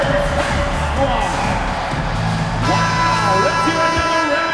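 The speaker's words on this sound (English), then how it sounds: "Spurs fans, let's get on our feet and make some noise for the Spurs squad." Basketball arena crowd at a Toronto Raptors vs San Antonio Spurs game cheers for the Spurs with whoops and yells, a dense roar of many voices mixed with the announcer and a bright horn-like tone.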